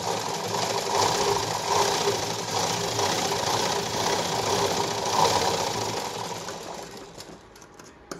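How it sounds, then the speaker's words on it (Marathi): A sewing machine runs a second line of stitching over a seam on a blouse, its fast, steady mechanical whirr close and continuous before easing off near the end. "आता परत एकदा आपल्याला त्याच्यावरच डबल शिलाई घ्यायची"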